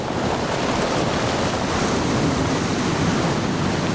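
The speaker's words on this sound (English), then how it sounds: "the surf is huge right now" Heavy ocean surf roars continuously with strong gusting wind buffeting the microphone, a loud, dense, unbroken wash of noise on a stormy coast.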